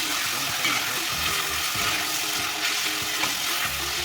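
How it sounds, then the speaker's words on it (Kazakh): Meat seasoned with salt, black pepper and cumin frying in a pan, a loud continuous sizzle with rhythmic scraping and clatter of stirring running throughout, close and unbroken. "Барлығын араластырып, жақсылап қуырамыз."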